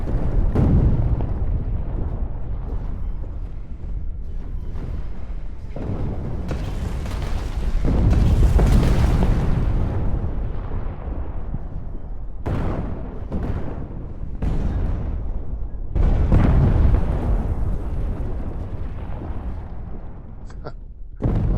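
Guns firing and explosions in an Unreal Engine 4 real-time strategy game, with repeated heavy booms and rumbling blasts in bursts over a steady mechanical background, some louder surges standing out.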